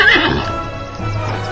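A horse whinnies loudly up close, a high quavering neigh that drops into a low snort and breathy rumble.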